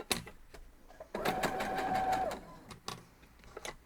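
A sewing machine stitching a quilt block makes a quick, whirring mechanical burst of about a second, close by, bracketed by small clicks and handling taps.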